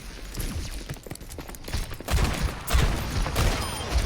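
Bursts of gunfire and combat effects from an Overwatch match, several irregular shots and clattering impacts rising in loudness toward the end, with no talk over them.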